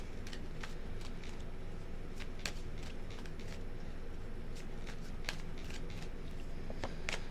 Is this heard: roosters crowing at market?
no